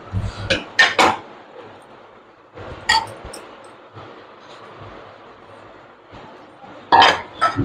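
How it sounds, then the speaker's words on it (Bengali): Fried prawns being stirred into potatoes in a pan with a spatula, a few loud close scrapes and clinks of metal on the pan separated by quiet gaps, with no talk. "এই মাছটা দিয়ে ভালো করে এবার নেড়ে দিচ্ছি"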